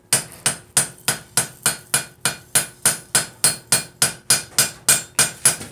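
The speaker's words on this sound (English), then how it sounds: "I'm going to give it a half on, half off blow" Hammer blows fall on hot metal while a vice is forged, about sixteen sharp, evenly spaced metallic strikes close by, each one ringing briefly in a steady rhythm, with no voices.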